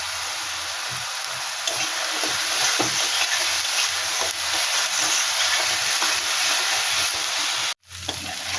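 Spices with salt, turmeric and cumin powder sautéing in oil in a pan for a tilapia fish curry, giving a steady dense sizzle and hiss throughout, close and loud with a brief break near the end.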